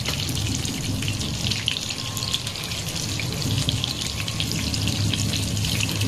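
Mutton gola kababs frying in oil over a low gas flame, a steady dense crackling sizzle that holds even and fairly loud throughout, with no voices.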